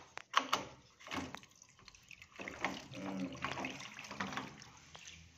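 Water spills out of the drain filter of an LG front-load washing machine as the filter is opened, a wet splashing trickle with bursts of louder gushing, heard close by while a person talks over it.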